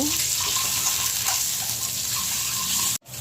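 Steady sizzling of boiled eggs with turmeric and salt frying in a pan, a constant hiss with faint stirring, cutting off abruptly near the end.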